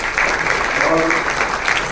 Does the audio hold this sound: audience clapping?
yes